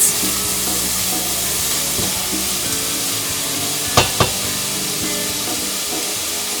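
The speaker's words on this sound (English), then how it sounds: "So we are going to let those sweat off until they become translucent." Onions sweat in a hot pan with a loud, steady sizzle and hiss, broken by two brief clatters near the middle.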